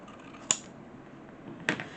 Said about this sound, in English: cut an edge off, flip it over to match up the other side